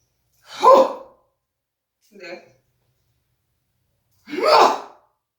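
Sharp, loud inhalations during a yoga breathing exercise, with two forceful breaths and a quieter one between them, set apart by silence.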